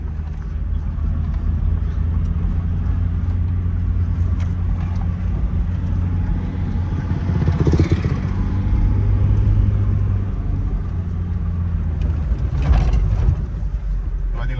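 A dirt bike engine riding on beach sand, a loud steady motor drone close by with a slight rise midway, while someone talks over it.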